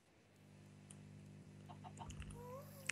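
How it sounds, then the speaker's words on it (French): Chickens in the Minecraft video game cluck in a few short, scattered bursts over a low steady hum, getting a little busier toward the end with a sharp final peep. "Ils sont pas trop cons ces poulets"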